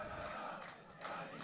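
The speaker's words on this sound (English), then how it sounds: "And then the crowd ramp up their chants again." A crowd at a floodlit football cup final chants and roars in surging bursts, loud and continuous with no clear voices standing out.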